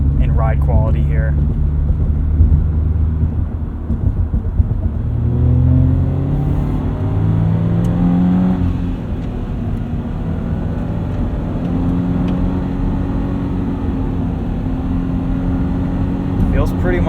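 A lifted safari-style 2022 Subaru BRZ cruises at about 60 mph. Steady loud engine drone and road rumble fill the cabin from inside, with pitch shifts as the revs change and a voice talking over it at times.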